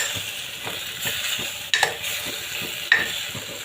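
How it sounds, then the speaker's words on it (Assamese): Tomato and potato frying in a pan for khichdi, a soft steady sizzle with repeated scraping stirs and two sharp clanks of the spoon against the pan, close and moderately loud. "দি দিছো মই এটা বিলাহী এতিয়া ভালদৰে ফ্ৰাই কৰিম"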